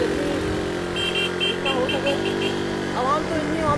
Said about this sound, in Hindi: बाइक चला लो। हाँ हाँ चल रही है, चल रही है, चल रही है।